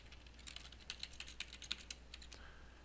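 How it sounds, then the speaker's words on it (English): Quiet, fairly steady keystrokes on a computer keyboard as a password is typed, a run of light clicks with a few slightly louder taps, heard alone over a faint background hum. "I'm going to type that right here, I-L-A-N, with my password"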